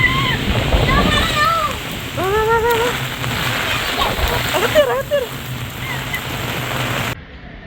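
Floodwater in Chennai, overflowing the drains after two days of heavy rain, rushes and splashes in a continuous broad wash beneath a person talking nearby.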